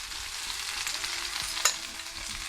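Browned lamb pieces with fresh onions, thyme and garlic sizzling in a pot, a steady close frying hiss with a single sharp clink of a utensil.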